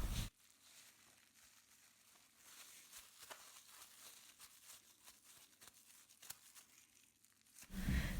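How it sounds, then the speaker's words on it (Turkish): A plastic bag of fresh okra is twisted and tied shut after the air is drawn out, giving soft close crinkles and faint rustling taps, with louder plastic crackle at the start and end. "Poşetin ağzını da birkaç kez kıvırıp sıkıca bağlıyoruz."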